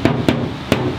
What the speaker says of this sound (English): I know it's a hammer